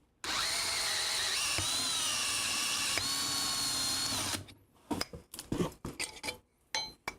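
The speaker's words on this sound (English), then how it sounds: "I didn't realize that the step drill is also going to poke out of the bottom" A step drill bores through a taped cardboard medical shipment box with a loud, steady high-pitched whine. It stops abruptly, and a short spoken word and some scattered clattering follow.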